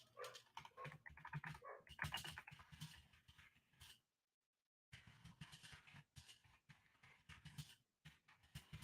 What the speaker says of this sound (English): That's my new puppy in the background there.